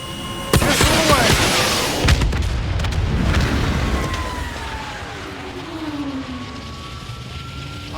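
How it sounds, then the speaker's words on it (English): A missile launch and explosion in the Call of Duty: Black Ops 3 game, set in an aerial dogfight. A sharp launch and a booming blast are followed by roaring aircraft engines and a long fading whoosh. "Missile away."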